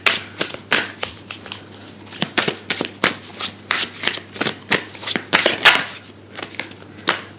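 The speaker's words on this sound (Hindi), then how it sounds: "मैं कार्ड शफल कर रही हूँ।" Tarot cards being shuffled by hand: a quick run of crisp riffling flicks and papery slaps, about twenty close, bright bursts in an uneven rhythm with no voices.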